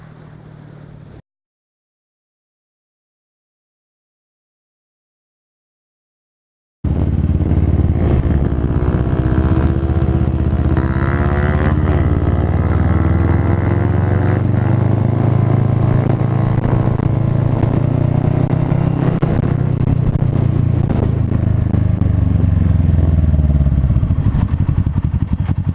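A Kawasaki ER6N motorcycle accelerating hard and loud up close after a short silent gap, with a rising engine drone through the gears over a steady road and wind roar.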